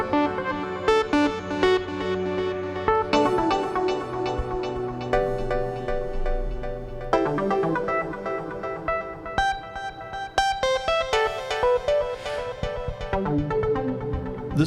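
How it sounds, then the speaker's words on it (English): A synth run through an effects unit with distortion and chorus plays bright melodic lines, broken now and then by little strings of very fast notes, with no voices. "every so often we get this little string of very fast notes"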